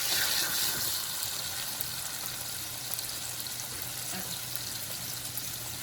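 Onions cooking in a pan for shrimp tacos give off a steady, even sizzling hiss that carries on without a break, fairly close.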